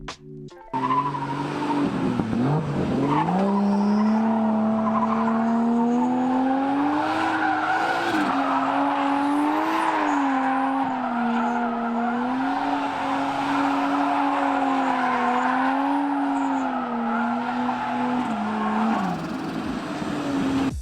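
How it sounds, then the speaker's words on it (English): An engine revs hard while tires squeal in a sustained, wavering screech as a car drifts, loud and close for a long stretch. "we're getting on throttle and we're just maintaining that drift"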